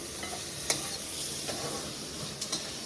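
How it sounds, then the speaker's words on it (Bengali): A spatula scrapes and stirs onion and meat frying in a pan, giving a steady close sizzle broken by a few light scraping clicks. "এখনও ভিডিও করার জন্য খুন্তি নাড়াচ্ছে"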